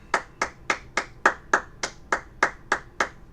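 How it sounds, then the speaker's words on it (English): A class claps hands in unison during a Tuesday night brotherhood gathering: eleven sharp, evenly spaced claps, about three per second, fairly close and loud, with no voices over them. "Clap it up."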